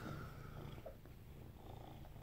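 A domestic cat purrs softly and steadily, a low rhythmic rumble heard up close and alone at a quiet level.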